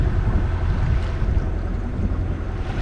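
Sailboat motor sailing in deep water off the southern coast of Spain, a steady low engine drone blended with wind and rushing water, loud and constant throughout.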